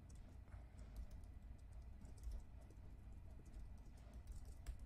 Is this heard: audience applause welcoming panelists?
no